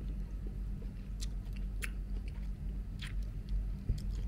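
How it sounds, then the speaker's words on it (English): Faint, wet chewing of longan fruit in Thailand, with soft squishy bites and small clicks over a low, steady background hum, without talking. "You chew the outside and you spit the seed out."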